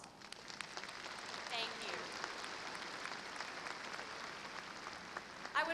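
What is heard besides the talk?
round of applause at commencement ceremony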